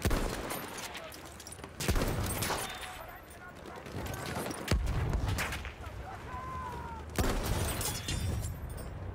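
Battlefield 1 gunfire, with four loud shots or blasts spaced a couple of seconds apart, each followed by crackling echoes and debris over constant battlefield noise, with voices talking in between.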